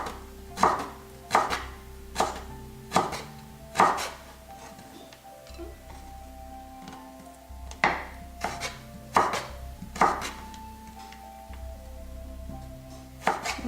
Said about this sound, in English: we're going to cut them too, just thin strips